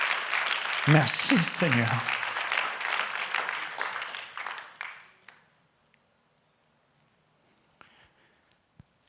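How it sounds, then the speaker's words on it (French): A French church congregation applauds and acclaims Jesus with a dense burst of clapping and voices that gradually thins and fades into near silence, while a speaker's voice rises over the applause. "Est-ce qu'on peut encore une fois l'acclamer?"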